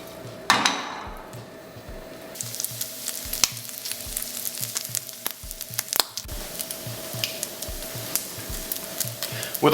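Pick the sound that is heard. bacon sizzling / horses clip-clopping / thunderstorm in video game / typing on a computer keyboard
bacon sizzling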